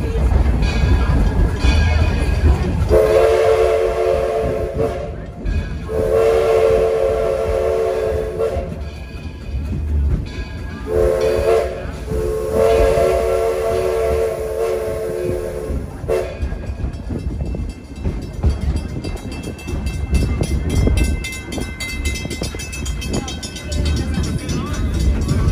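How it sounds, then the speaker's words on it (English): A train's bell rings and its whistle sounds in several long blasts over the steady rumble and clatter of the moving train, heard from on board during an excursion ride. "First the bell, then the whistles."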